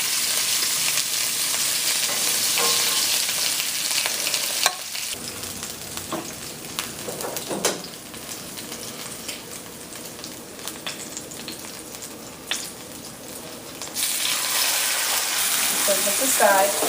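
Jumbo shrimp sizzle in a hot pan over an open flame, a loud, continuous crackling fry that softens for a stretch while the shrimp are moved about, with scrapes and clinks, then swells back to full sizzle.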